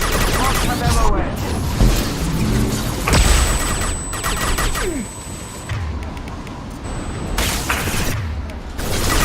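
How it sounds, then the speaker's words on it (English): In Mass Effect 2, on the Shadow Broker mission at the hardest difficulty, a flashbang grenade bursts amid dense gunfire and battle noise, its sharp crack sitting inside continuous combat clatter. "Watch out, flashbang!"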